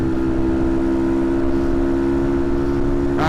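Honda C90 motorcycle with a modified 170cc engine pulling hard under throttle, a steady loud drone with strong low harmonics continuing without a break, close and alone.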